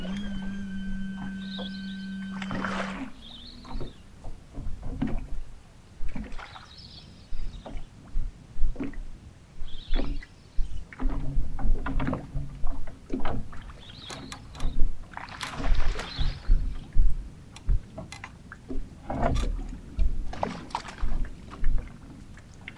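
A fishing boat moving across open water, choppy slaps and splashes against the hull with wind buffeting the microphone, loud and close, with an engine drone fading out early on.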